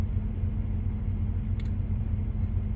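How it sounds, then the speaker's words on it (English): A truck pulls out with its reefer refrigeration unit running, giving a steady low engine rumble and drone, continuous and fairly close, with a brief faint click partway through and no talk. "There's a truck pulling out with his reefer running, I think. It's probably going to cause a bunch of noise."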